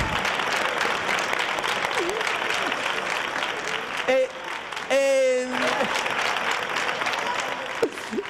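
Loud studio audience applause for the sound technician during a Spanish morning radio show, dense and sustained throughout, with a brief voice or tone breaking through near the middle.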